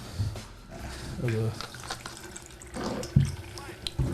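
Crown whisky poured into a glass, a soft liquid splash running under steady conversation among several voices.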